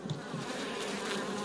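A honeybee colony at an apiary, hives being readied for winter, buzzing as a dense, steady drone close by, with occasional louder passes of individual bees and no talk.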